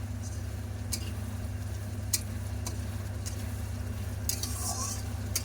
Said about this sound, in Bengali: দেখো এই যে মশলাটা ফুটছে, এর মধ্যে মাছটা দিয়ে দেওয়া হবে